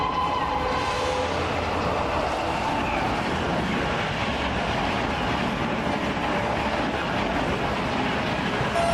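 A train rumbles past close by, a loud, continuous roar of wheels and rolling stock with steady clattering that holds throughout without a break.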